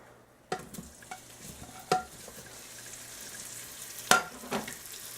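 Ham chunks brown in bacon grease inside a pressure cooker, giving a soft, low sizzle punctuated by a few distinct scraping stirs.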